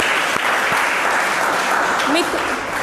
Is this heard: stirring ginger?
no